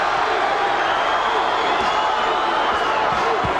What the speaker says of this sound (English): The crowd chanting, Johnny, Johnny